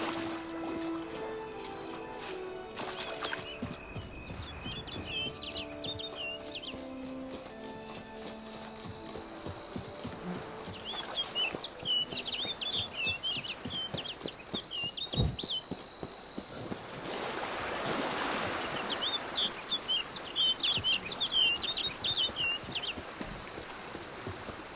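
Repeated high chirping bird calls in The Witcher 3 video game, three short bursts heard over hoofbeats and ambient game sound.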